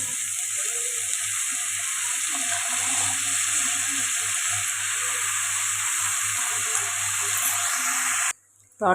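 Washed amaranth leaves hit a pan of softened tomatoes for dal and fry with a loud, constant sizzle and hiss, broken by soft stirring scrapes, before cutting out abruptly near the end.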